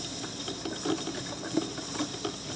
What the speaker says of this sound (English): The coffee pot drips as Turley residents file into the conference room in a local church.